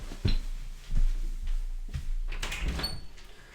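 Indoors, a door is opened to let a dog in, with a few dull thumps and a low rumble of handling at close range and no talking.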